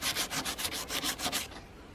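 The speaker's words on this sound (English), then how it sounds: "180, I'm going to be like sanding areas like this, just like it, to blend it better" Hand sanding a 1979 Honda Prelude's body panel with 180-grit paper to blend and remove oxidation before paint, a close run of about ten quick rhythmic rubbing strokes that stop, leaving quiet room tone.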